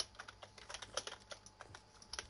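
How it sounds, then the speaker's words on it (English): A computer keyboard clatters in a quick irregular patter of soft keystrokes, close and fairly quiet, with no voices. "I kinda like the sound of the keyboard."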